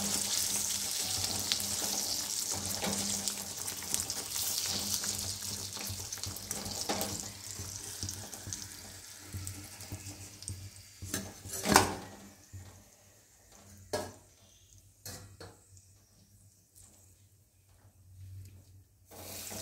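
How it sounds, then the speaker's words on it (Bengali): Kochuri, peas-filled Bengali pastries, sizzling in hot oil, a broad steady frying hiss that thins out toward the end, with a few sharp clinks and splashes standing out alone. "আমি একে একে এইভাবে কচুরিগুলোকে ছেড়ে দিচ্ছি।"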